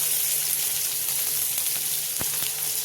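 Chopped onions hit hot oil with cumin seeds in a wok, giving a steady hiss and sizzle with a few sharp crackles near the end, fairly soft and close, with no talking.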